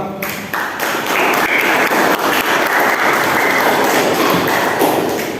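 Sustained applause from a class audience for a student presenter in a teaching session, a dense steady wash of many hands clapping at a constant level for several seconds, with no talk over it.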